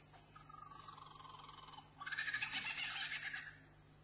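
A songbird mimicking a kookaburra call, first a thin sustained warbling phrase, then a louder, buzzy, rapidly pulsing burst of chattering notes, clear and fairly close with no voices.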